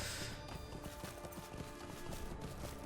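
Horse hooves clip-clopping in a video game, a quick, even run of hoof knocks over a busy layer of game music and ambient sound, fairly quiet overall.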